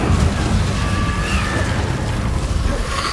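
A steady roaring whoosh of fire from an Incendio spell cast in Hogwarts Legacy, loud and continuous with low booming rumble throughout.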